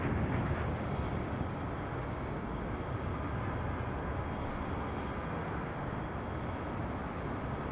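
Delta Airlines Airbus A321 jet departing LAX, bound for Austin, Texas, a constant dense engine roar from a distance across the whole stretch, alone without voices.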